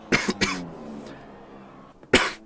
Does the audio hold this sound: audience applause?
no